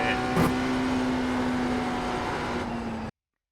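In the iRacing simulator, a BMW GTP race car circling Le Mans holds a steady, droning engine note while the throttle is feathered through a turn, with one brief burst near the start before the sound cuts off.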